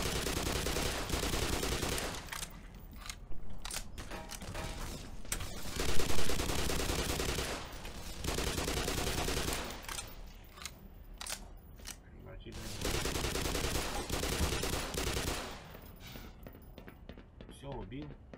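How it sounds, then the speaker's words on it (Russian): A sustained firefight in the shooter Black Mesa, with dense bursts of automatic weapon fire broken by brief pauses and louder single blasts, all close and harsh, while someone talks over the shooting. "Это такая именно серьезная голливудская перестрелка происходит."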